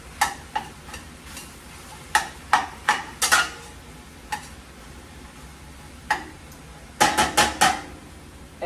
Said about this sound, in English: I'm just mixing up the turkey and the vegetables